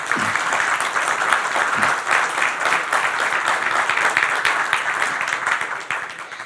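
Audience applause at the close of a talk on the global energy transition, a dense steady clapping from a large crowd that stays loud for the whole stretch and thins slightly at the end.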